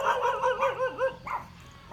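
Dogs at a fish farm yip and howl in quick, rising and falling cries, a close, lively cluster of barks over about two seconds with no talking.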